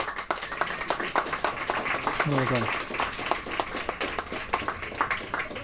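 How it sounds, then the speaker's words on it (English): Audience clapping for the champions and the event organizer at the 2018 Mind Sports Olympiad award ceremony, steady applause running throughout beneath a speaker's voice. "another round of applause to Bill for organizing this unique event"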